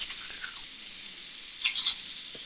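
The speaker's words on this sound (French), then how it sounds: "On peut lui brosser les dents." A toothbrush scrubs a cartoon panda's teeth in a children's video game, giving a soft, airy brushing texture with a few brighter scratchy strokes near the end, fairly quiet and continuous, with no talking.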